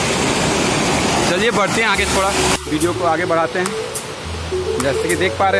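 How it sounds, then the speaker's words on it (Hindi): A small waterfall among rocks in a forest pours with a constant, loud hiss of spraying water, while someone talks over it almost throughout. "छोटा सा है, छोटा सा वाटरफॉल, बहुत ही सुंदर।"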